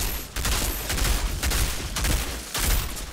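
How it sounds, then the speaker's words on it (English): Dense, continuous gunfire from the Outriders video game, with rapid shots and bursts rolling one after another at steady, loud volume with no talking. "I tend just to shoot everyone from here."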